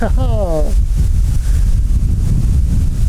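A squall wind of about 28 m/s blasts across the microphone at a lakeside fishing spot, a loud, constant roar throughout. A voice briefly speaks at the very start.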